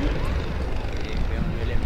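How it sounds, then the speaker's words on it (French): SAMU H4 medical helicopter lifting off, a loud steady rotor and engine roar with low thumping and wind buffeting filling the whole stretch, close and continuous. "l'hélicoptère du SAMU, le H4 vient de redécoller"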